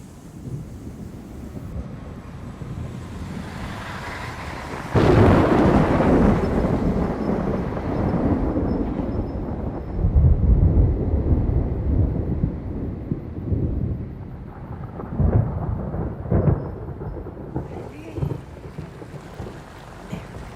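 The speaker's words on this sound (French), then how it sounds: "La tempête se rapproche." A thunderstorm draws near: steady rain and wind roar, then a heavy rumbling burst of thunder, and the rumbles go on in waves, loud and low.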